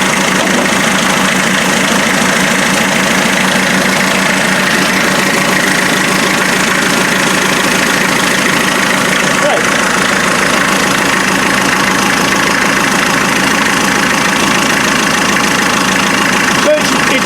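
A Land Rover Defender with a 2.5-litre naturally aspirated diesel engine idles at around 800 RPM, giving a loud, steady, close clatter with an even knocking rhythm that holds unchanged from start to finish.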